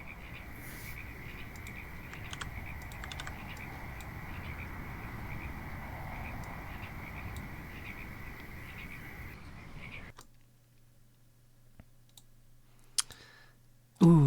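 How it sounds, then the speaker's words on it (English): Synthesized noise resembling a frog chorus, a dense continuous croaking and clicking texture with a steady high tone, holding for about ten seconds before cutting out to near silence and a few faint clicks. "This little euphoric sound. But it sounds like frogs. It sounds like kind of frog chorus"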